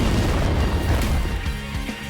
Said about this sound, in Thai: โหมดแอนตี้โบลี่จะทำการระเบิดพลังใส่ย่าสีเขียวแอนิเมชันและเอฟเฟกต์สกิลทำออกมาได้ดี